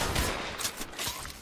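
Rapid gunfire in the mobile battle royale Apex Legends Mobile, a dense burst of overlapping shots that runs through the whole moment at moderate loudness, with no talking.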